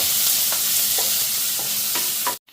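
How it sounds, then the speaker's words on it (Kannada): Tomatoes and green chillies frying in a pan, a loud, dense sizzle with a few distinct stirring scrapes at regular intervals before the sound cuts off abruptly. "ಟೊಮೊಟೊ ಹಣ್ಣು ಹಸಿರು ಮೆಣಸಿನ್ಕಾಯಿ ಇದನ್ನು ಚೆನ್ನಾಗಿ ಫ್ರೈ ಆಗಬೇಕು"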